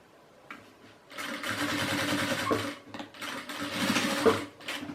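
A sewing machine stitches fabric for a maternity bag, running in two steady bursts of rapid mechanical clatter after a quiet start, with a short pause between them and nearby handling clicks.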